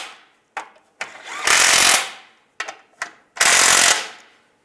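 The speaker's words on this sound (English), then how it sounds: "And then the same with these bolts, tighten these down." Power-tool work on the engine mount bolts of a 1999-2005 Volkswagen Jetta: two loud, close bursts of rapid impact hammering, each led in by short clicks and taps, with silence between.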